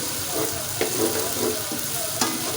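Masala fried in ghee in a pan for a spiced tinda (round gourd) curry, giving a loud close sizzle with a few spatula scrapes and stirs.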